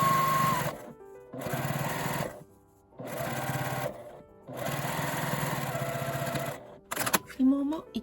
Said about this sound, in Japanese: 端を縫います。